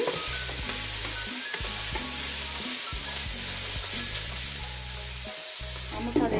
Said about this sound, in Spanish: Vamos a dejar a que se sofría ahí algo y luego agregamos lo demás.